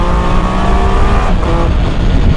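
A Triumph Tiger 1200 Alpine motorcycle accelerates hard, its engine roaring loud and close in a dense, sustained drone that rises slightly in pitch, with no voices.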